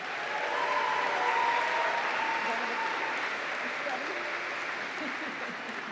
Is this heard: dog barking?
no